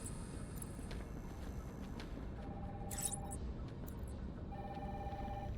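Red telephone ringing in the video game Batman: Arkham Asylum, a thin steady electronic ring in two bursts over a constant low background hum.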